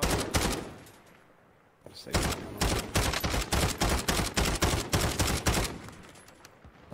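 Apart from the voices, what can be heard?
SMG gunfire in Call of Duty Warzone video game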